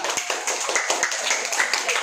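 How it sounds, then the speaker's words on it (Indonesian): A classroom of students claps hands after a group presentation, a moderately quiet, uneven patter of individual claps lasting about two seconds. "Oke, tepuk tangan."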